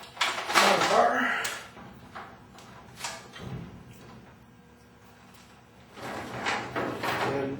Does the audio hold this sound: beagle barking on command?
no